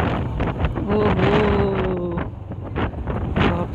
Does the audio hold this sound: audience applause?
no